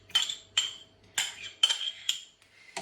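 A spoon stirring yogurt culture into milk in a Ninja 15-in-1 cooker pot, heard as five or six crisp, close metallic clinks at a quick, uneven rhythm with brief gaps between.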